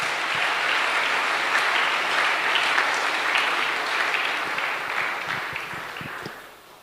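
A church congregation bursts into loud, sustained applause, a dense wash of many hands clapping at once that holds steady and then tapers off toward the end.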